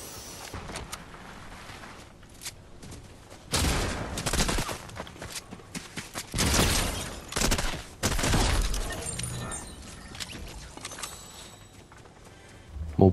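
Gunfire echoes in a Fortnite match, with bursts of shots swelling in a few loud stretches over background game noise, and someone talks at times.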